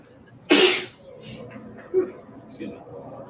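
A sharp, loud sneeze bursts out close by during a baseball broadcast, followed by quieter murmured talk and a smaller nasal sound, with light background noise from the ballgame.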